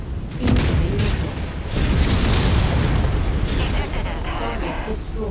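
Loud booming missile blast in a military video game, a sustained rumbling roar with a second surge about two seconds in, continuing as a dense low wash throughout.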